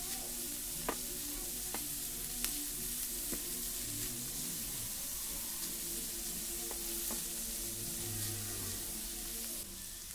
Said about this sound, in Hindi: पत्ता गोभी डाल देंगे, उसके बाद हल्के हल्के फ्राई करेंगे